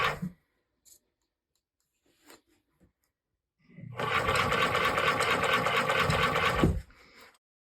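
A sewing machine stitches fur mittens, one loud close burst of fast even stitching lasting about three seconds. Soft clicks and handling noises come before it in otherwise quiet surroundings.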